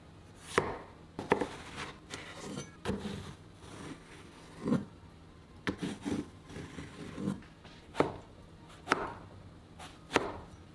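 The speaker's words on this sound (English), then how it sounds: "Cut the eggplants into quarters lengthwise." A knife cuts eggplants into quarters lengthwise on a cutting board in separate, uneven strokes, about a dozen sharp taps with soft slicing scrapes between, close and quiet.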